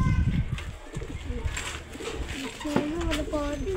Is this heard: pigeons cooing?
yes